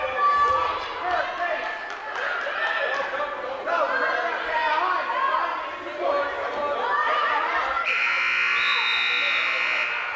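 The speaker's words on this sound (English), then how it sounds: "And there's the buzzer for the end of the second period." At a girls' varsity high school wrestling match, a loud, steady electronic buzzer sounds near the end to close the second period, cutting through an announcer's commentary and gym crowd noise.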